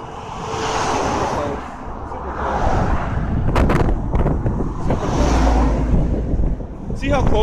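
Cars pass close by on a street while someone waits to cross, a loud continuous rush of traffic rising and falling in waves, with strong wind buffeting the microphone.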